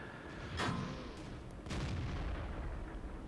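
Artillery fire in the World of Tanks video game, a sharp distant boom followed about a second later by a second broadband blast, both over a steady low game rumble with no talking.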